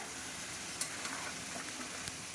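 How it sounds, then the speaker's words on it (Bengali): Mutton pieces frying with onions in a pan, a faint, steady sizzle with a few small clicks of stirring, close and without talk. "এই যে মাংস বসিয়ে দিয়েছি তিনটে পেঁয়াজ দিয়ে একটুখানি হালকা করে আগে ভেজে নিচ্ছি"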